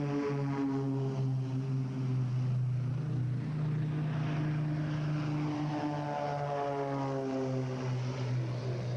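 Propeller aircraft of the RNZAF Red Checkers aerobatic team drone steadily as they get airborne at a Warbirds Over Wanaka air show, a continuous, moderately distant engine hum with slowly shifting pitch throughout.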